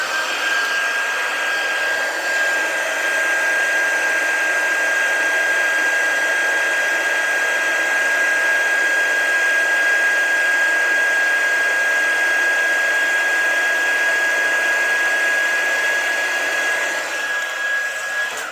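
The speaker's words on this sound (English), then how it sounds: "And then I'll bring in my heat tool" An embossing heat tool blows hot air onto embossing powder in a steady, loud whirring hiss that runs unbroken without talk.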